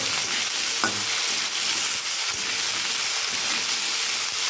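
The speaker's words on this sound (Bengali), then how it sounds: "আলুটা দিয়ে দেবো আলুটা প্রথমে একটু ভালো করে ভেজে নেব" Potatoes, new ones, fry in hot oil with black cumin in a pan, a continuous loud hissing sizzle with faint stirring knocks now and then, with no talking.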